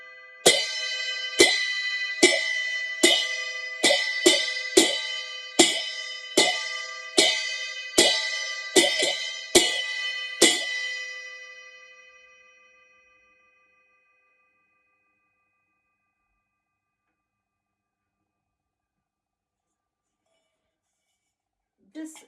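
A cymbal rung as a spiritual clearing device, struck about thirteen times in a steady rhythm, each bright metallic ring layering over the last before the tone decays into a long fading shimmer and silence.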